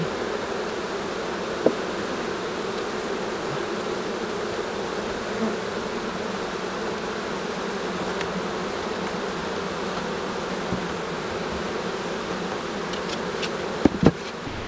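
Honey bees buzz steadily around beehives in Quebec, a dense continuous hum close by with a few brief clicks and knocks near the end.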